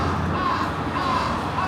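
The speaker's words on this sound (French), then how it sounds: "Numéro 1, les corbeaux évidemment" Crows in Sapporo city give a few harsh, repeated caws over a steady urban background hum, fairly close and clear.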